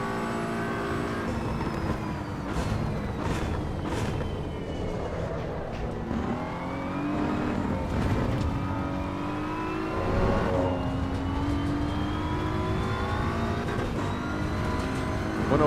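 A race car engine in the video game Assetto Corsa Evo, held loud and close with rising and falling revs through gear changes, droning steadily throughout.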